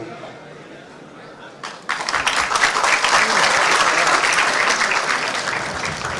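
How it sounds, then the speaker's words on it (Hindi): A crowd at a youth conclave in Ranchi, attended by Himanta Biswa, breaks into loud, sustained applause after a quieter moment. The clapping rises sharply, stays full and energetic for several seconds, then eases slightly. "तालियों में कमी नहीं होनी चाहिए"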